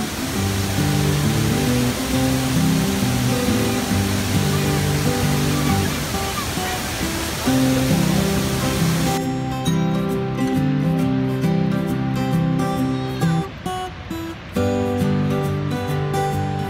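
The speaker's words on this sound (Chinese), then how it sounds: "这个瀑布是亚洲最大的人造瀑布" Asia's largest man-made waterfall, Niulan in Kunming, gives a dense, steady roar of falling water that fills the scene. It is recorded from a building opposite and stays loud and continuous from start to finish.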